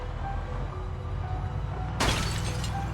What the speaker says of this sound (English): We smashed it on a traffic light and there's no windshield now.